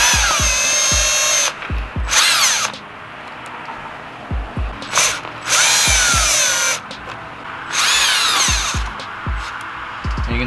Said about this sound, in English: next we're going to remove this little screw right here